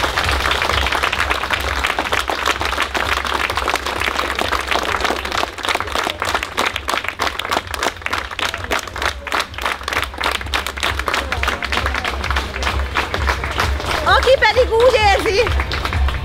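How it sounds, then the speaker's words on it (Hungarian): Museum night staff at the Zalaegerszeg court receive a long, dense round of audience applause, crowd clapping steady throughout with some murmuring and a voice rising near the end. "egy nagy tapsot kérek a kollégáimnak"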